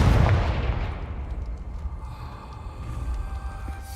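A Confringo fire spell cast in the Hogwarts Legacy video game bursts out as a loud, boomy blast at the start, then fades into a rumbling, crackling tail with faint tonal game sounds behind it.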